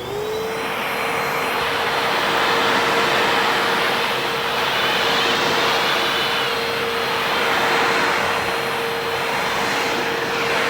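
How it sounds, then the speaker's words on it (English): A VacMaster wet dry vac motor whines loudly and continuously, a steady high-pitched drone with a broad rushing airflow beneath. "VacMaster wet dry vac. So I'm going to start it up."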